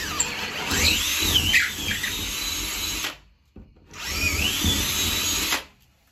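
A power drill widens holes in drywall in two loud whining bursts of about three seconds and two seconds, separated by a short pause, with a high squeal as the bit bites.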